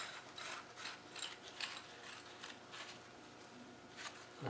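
Ratchet clicking steadily as a half-inch bolt is turned on a Rover 3500 steering box during a rebuild, a close, fairly quiet run of rapid pawl ticks in short bursts with no talk.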